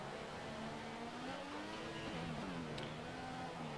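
A Renault Formula 1 engine in a racing video game, on the Hungarian circuit in Budapest, drones steadily at a faint, distant level, its pitch rising and dipping as revs shift through the laps, with no voices.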